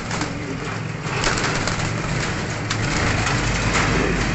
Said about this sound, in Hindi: अच्छे कबूतर है उड़ाने वाले।